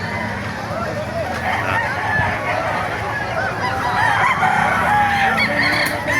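A busy chorus of roosters crowing and chickens clucking fills a crowded poultry market in Bocaue, Bulacan, with people talking in the background throughout.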